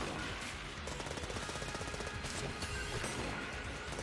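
A fast-firing gun in Enter the Gungeon shoots nonstop, a dense, even stream of rapid cracks buried in busy game noise and music, steady and moderately loud throughout.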